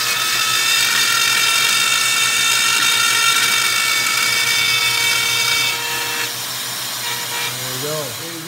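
Power tool cutting and enlarging a slot in aluminum for a Polaris Slingshot hitch receiver, a steady high-pitched whine running loud for about six seconds before dropping in level and tapering off near the end.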